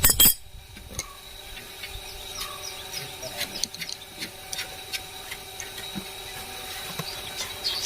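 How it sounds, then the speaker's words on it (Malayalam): A spanner works a nut loose on a bicycle during chain repair, giving light metallic clinks and ratchety ticks at irregular intervals, close by, with a sharp clatter at the start. "ഈ ഒരു ഏരിയയിൽ നമ്മൾ സ്പാനർ വെച്ചിട്ട് അഴിക്കാൻ പോവുകയാണ്."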